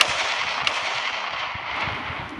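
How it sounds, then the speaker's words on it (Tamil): Diwali firecrackers go off nearby outdoors in a hissing, crackling burst, with one sharp pop standing out above a steady fizz and rumble. "பக்கத்தில் இருக்கிறது வெடிக்குது"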